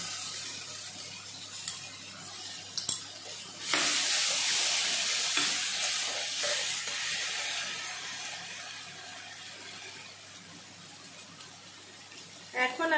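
Spice masala stir-fried in a pan for a home-style katla fish belly curry, a loud sizzle that bursts up when the masala hits the hot oil, then a steady frying hiss with scraping stirs and occasional clatter near the end.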